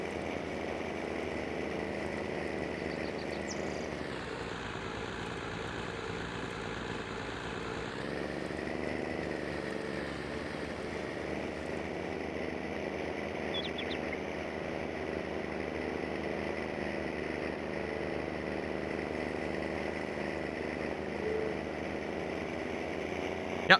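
A small tractor's engine drones steadily in a farming simulator game, a continuous mid-level rumble that dips briefly near the start before resuming its even running sound.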